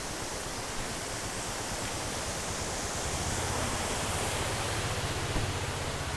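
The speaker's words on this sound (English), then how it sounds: "There are many waterfalls here actually." A waterfall near Kynrem falls in a steady, full broadband roar, constant and fairly loud through the whole stretch, with no voices.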